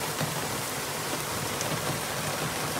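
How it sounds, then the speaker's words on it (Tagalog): Heavy rain pours down steadily, a dense, loud hiss of drops hitting surfaces with no pauses, falling on a roadside early in the morning in Israel around a broken-down vehicle. "Napakalakas ng ulan, oh."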